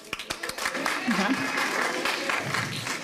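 Audience clapping at a tense school board meeting, a burst of applause swelling under ongoing talk and crowd murmur for about three seconds.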